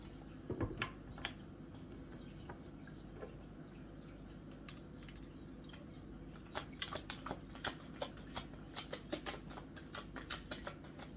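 Tarot cards being shuffled nearby in soft bursts of riffling and tapping, quiet at first and then a quicker run of crisp flicks.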